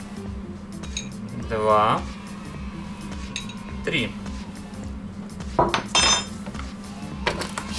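A metal spoon clinks against a bowl while spoonfuls of water are added to almond-sugar powder for almond croissant filling, in a few sharp bursts over a low steady hum, with a voice counting along.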